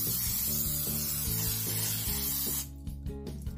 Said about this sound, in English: Spray our loaf pan